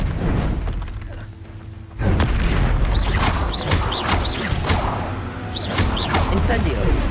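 An Expelliarmus spell cast in Hogwarts Legacy: a sharp whooshing burst with booming, crackling impacts that jumps in loudness partway through, followed by repeated swishing magical flourishes and thuds amid combat noise.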